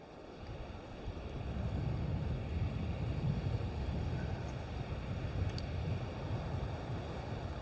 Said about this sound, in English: The wind's pretty strong,